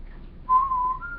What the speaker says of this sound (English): but do the whistle again